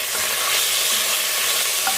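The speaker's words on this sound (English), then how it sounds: "Now stir it and let it brown," Beef browning in a pan while being stirred, a dense, loud, continuous sizzle close up and without voices.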